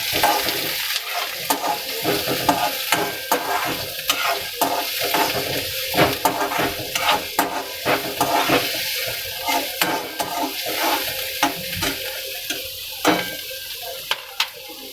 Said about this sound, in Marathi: कांदा भाजून घेऊया आपण.